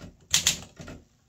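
An Olympia SM3 or SM4 manual typewriter gives a few sharp, loud key strikes in quick succession, followed by a softer clack, close up with no talking.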